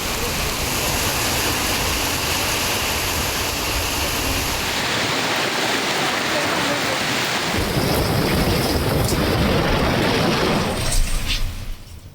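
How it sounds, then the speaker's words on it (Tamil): Heavy rain pours steadily and loudly in Hosur and Uthangarai in Krishnagiri district, where rainwater floods the roads. The dense roar continues throughout with a brief swell near the end. "கிருஷ்ணகிரி மாவட்டம் ஹோசூர், ஊத்தங்கரை உள்ளிட்ட பகுதிகளில் பெய்த மழையால் சாலைகளில் மழைநீர் பெருக்கெடுத்து ஓடியது."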